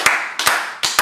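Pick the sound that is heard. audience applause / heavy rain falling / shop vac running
audience applause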